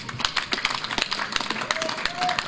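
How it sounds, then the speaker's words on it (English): Audience applause at a ministry ceremony, a continuous patter of many hands clapping at moderate distance, uneven and crowd-like, with a faint tone near the end. "Let us thank them with a hand of applause."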